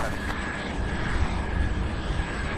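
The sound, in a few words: cargo airplane being pushed back at airport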